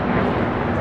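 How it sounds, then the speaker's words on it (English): An Alaska Airlines Boeing 737 MAX 9 taking off, a brief steady broadband jet engine roar, loud and continuous, with no other sounds over it. "This is Alaska Airlines Flight 380 taking off to Fort Lauderdale, Florida on a MAX 9."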